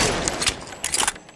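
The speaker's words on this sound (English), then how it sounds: "Ooh, a Tommy gun." A Tommy gun fires in a video game in short, rapid bursts that sound close and harsh against a noisy battle background.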